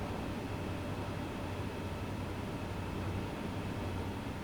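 Yellow and blue Santa Fe SD diesel locomotive rolling along in Train Sim World, a steady low engine drone with broadband rumble and rail noise, constant and with no voices.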